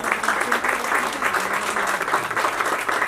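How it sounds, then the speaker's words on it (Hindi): An audience at a celebrity book launch event breaks into steady, dense applause for Dr. Vijay Chandak, loud and continuous throughout with a faint murmur of voices. "बेटर हाफ डॉक्टर विजय चंडक जी के लिए जोरदार तालियां हो जाए."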